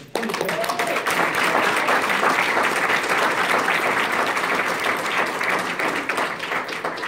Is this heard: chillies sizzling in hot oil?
no